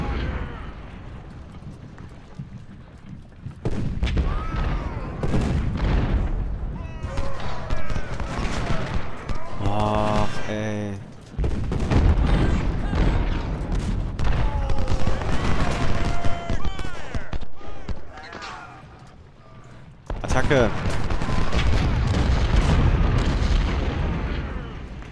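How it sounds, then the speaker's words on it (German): Cannon artillery firing in the Civil War strategy game Ultimate General: Civil War, loud repeated booms and rumbling volleys filling most of the stretch, with a short quieter gap and a brief tonal burst in the middle. "Kanonen."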